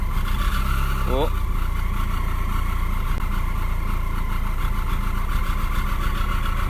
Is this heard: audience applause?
no